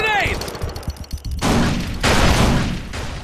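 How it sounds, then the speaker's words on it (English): A grenade explosion in Far Cry 3, a loud broad blast that bursts in abruptly and rumbles on, then a second blast just after, following earlier brief sounds with a voice. "Throwing grenade!"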